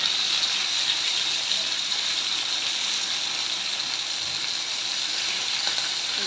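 Hilsa fish pieces frying in hot oil in a pan give a steady, close, bright sizzle that holds evenly throughout without pause, with no voices.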